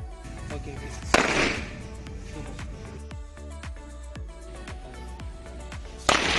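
An electric time bomb goes off with two sharp, loud bangs, the first followed by crackling debris and the second near the end, with scattered smaller pops and clatter between them.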